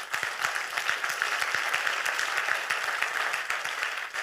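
A church congregation applauds steadily, a dense wash of clapping hands that stays even and lively throughout.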